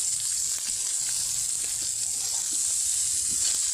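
Leafy kalai greens are added to onion, garlic and chili frying in oil, giving a steady, close sizzle and hiss with faint stirring touches and no talk.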